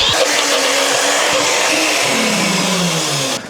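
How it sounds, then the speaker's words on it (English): A blender whirs loudly and steadily, chopping dry mushrooms into a powder, its motor roaring close up for a few seconds before winding down at the end. "what I'm going to try and do with these is blend them up"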